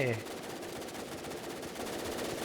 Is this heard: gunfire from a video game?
yes